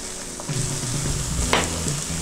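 Chicken curry fries in a pan, giving a loud, steady, close sizzle with occasional stirring scrapes and bubbling pops. There is no speech.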